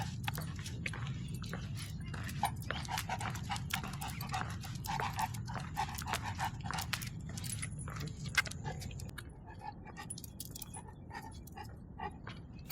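A Cane Corso dog pants steadily up close outdoors in a public park, rhythmic breaths with faint jingling and small clicks throughout.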